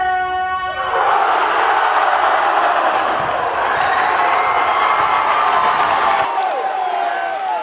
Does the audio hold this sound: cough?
no